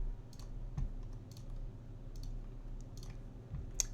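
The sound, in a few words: mouse clicks in the video game House of Legacy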